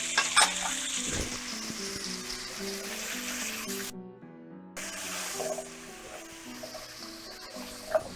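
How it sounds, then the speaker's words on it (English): Leeks and carrots sweat in a pan deglazed of fond for German beef rouladen, giving a steady soft sizzle with stirring scrapes and a brief dropout midway, no voices over it. "Now as these vegetables sweat, it's going to release a lot of that fond that was built up on the bottom of the pan."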